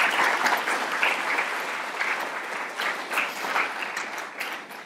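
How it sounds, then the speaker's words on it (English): Sustained applause from a lecture audience at a UC San Diego talk, steady and fairly close, filling the whole stretch with dense clapping that never breaks. "let's give a round of applause"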